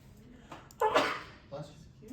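A single sharp sneeze bursts out during a committee meeting, fairly quiet and brief, with softer sounds of the room around it.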